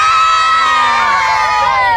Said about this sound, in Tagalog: Sigawan mga batang Pampanga!